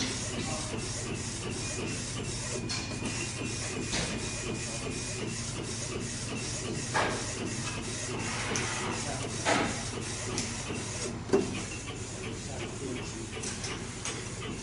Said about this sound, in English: Right now is for test printing without ink.